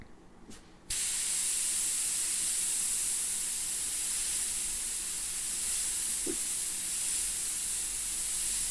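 A spray gun applies 2K paint in a steady, loud hiss that begins abruptly after a short quiet moment and runs continuously to the end.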